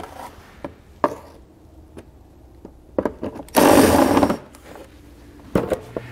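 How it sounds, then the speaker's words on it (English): A 14 millimeter socket working a nut loose on a 2022 Kia Telluride during a trailer hitch install, sharp close clicks and knocks with one dense burst of ratcheting in the middle, no talking. "we're going to remove the nut here with a 14 millimeter socket"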